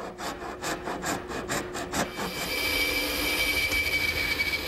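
A handsaw cuts the back shoulder of a wooden tenon for a Morris chair, first with quick rhythmic strokes and then a steadier, continuous rasp, loud and close with no talking.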